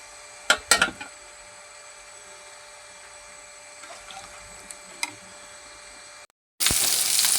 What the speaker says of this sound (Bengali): এই যে গরম পানি দিয়ে দিতেছি